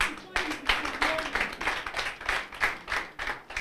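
Rhythmic group clapping at a moot court competition, saluting a judge, with roughly even beats over a few seconds. Voices can be heard mixed in with the claps.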